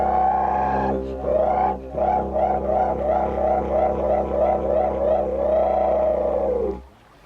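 A didgeridoo imitates the call of a brolga, a large crane, with a low steady drone under a rapid, warbling series of voiced whoops that pulse evenly before the drone cuts off.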